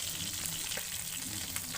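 Whole spices, a five-spice tempering, sizzle in hot oil after bata fish has been fried, producing a faint, steady crackling hiss with small pops and no talk.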